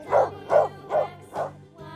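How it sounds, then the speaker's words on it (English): A dog gives four evenly spaced barks, loud and close, followed by a softer whine at the end. "D for dog."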